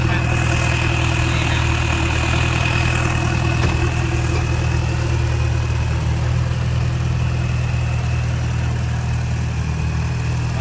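A drag race car idles at a canal-side practice track, a loud, steady low engine rumble holding evenly throughout with no revving.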